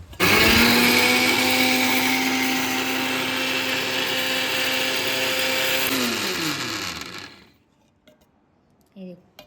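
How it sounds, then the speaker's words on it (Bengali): A mixer grinder whirs loudly and steadily as it blends ground spices with asafoetida to a fine powder, its motor pitch sliding down as it switches off, followed by near silence and a faint clink. "পরে ব্লেন্ড করে নিয়ে আসবো, একদম মিহি করে মশলাটা রেডি করে নিয়ে আসছি"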